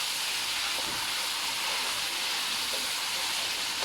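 Mutton cooking in a karahi, giving off a steady, loud, broadband sizzle and hiss that stays even from start to finish with no voices.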